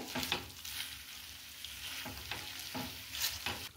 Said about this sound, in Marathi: यामध्ये ना आता आपण फ्रेश क्रीम घालून घेऊया.